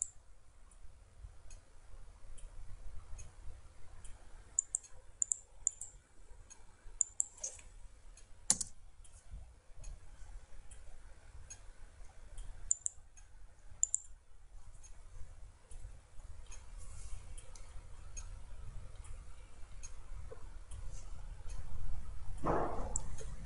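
A computer mouse clicks on a desk while web content is managed in Joomla: sparse, quiet single clicks spaced seconds apart over faint room noise.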